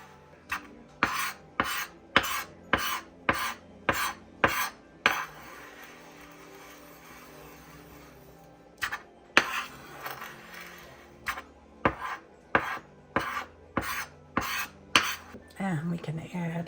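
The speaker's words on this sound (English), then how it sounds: "now you just take the grinder and you work on it" A glass muller grinds watercolor pigment with rhythmic, gritty scraping strokes close by. The strokes pause for a few seconds, then resume at the same even tempo.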